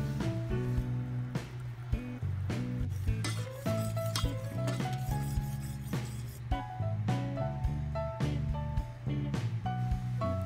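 A utensil stirs a soy sauce and sugar seasoning mixture in a bowl, giving soft, faint clinks and scrapes against the dish over steady background music.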